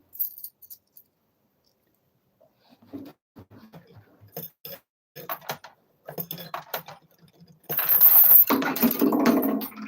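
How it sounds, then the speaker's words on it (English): Quarters clatter and scatter across a hard floor, a burst of small metallic clinks and jingles, loud and close, preceded by quieter scattered taps. "That sound you heard was the emergency dropped quarters on the floor signal."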